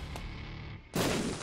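A bomb going off in The Binding of Isaac Afterbirth+, a single sudden loud blast that cuts in abruptly after a quiet stretch of game sounds.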